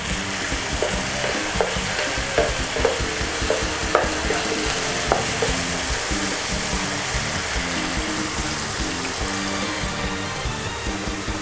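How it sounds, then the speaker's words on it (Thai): Chicken breast with oyster sauce and soy sauce stir-fries in a hot pan, a steady sizzle under repeated scraping stirs and light clinks of a spatula, no talk. "ต่อไปก็ผัดให้เข้ากันดีเลยค่ะ"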